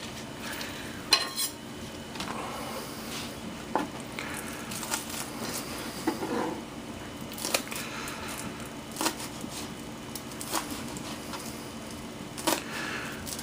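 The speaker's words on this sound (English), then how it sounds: "So I guess we'll chop these up real quick." Rehydrated Ova Easy powdered eggs being chopped up inside a bag, giving soft irregular scraping and tapping knocks at close range over a faint background hiss, with no talk.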